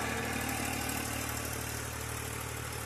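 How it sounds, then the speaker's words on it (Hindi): A tractor engine runs in a sugarcane field during sowing and furrowing, giving a steady, close, unbroken drone with no talk. "अभी से ट्रैक्टर चला रहा"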